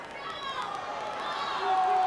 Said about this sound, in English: every move that he makes right now, the crowd is in disapproval